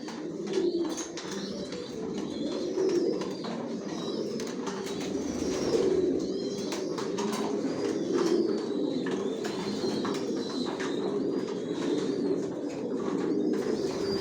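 Janssen racing pigeons in a loft keep up a steady, dense chorus of low cooing, many birds overlapping continuously with occasional wing flutters and faint chirps, no talk.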